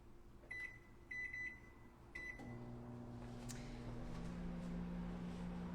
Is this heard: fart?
no